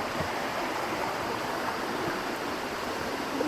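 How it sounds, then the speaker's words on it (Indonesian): A small waterfall and stream along a hiking trail at Puthuk Gragal rushes steadily, a dense, continuous wash of flowing water, close and even in loudness throughout, with no voices. "Kayaknya ada air terjun mini di bawah situ, ya kan?"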